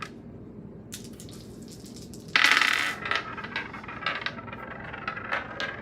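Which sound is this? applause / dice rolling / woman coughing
dice rolling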